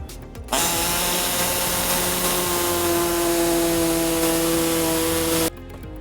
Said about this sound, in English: we're gonna cut out just on the edge of the tape.